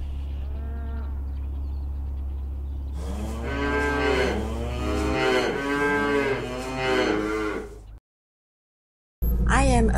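Dairy cows mooing on a farm, several long, loud calls rising and falling one after another across the middle of the stretch, over a steady low hum, followed by a sudden cutoff to silence.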